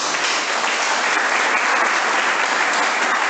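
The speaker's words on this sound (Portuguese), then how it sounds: "Deu a salva de palmas para a palavra de Deus." A church congregation claps together in a sustained, dense round of applause, loud and even throughout with no talking on top.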